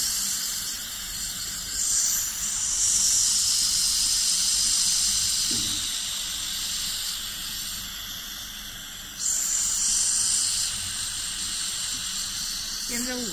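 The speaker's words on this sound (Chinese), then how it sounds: "然后看到我们这个喷氧枪，点击，然后点启动" Oxygen spray gun on a facial steamer machine gives off a steady, fairly loud high-pitched hiss that eases slightly, then surges back, with faint handling clicks around it.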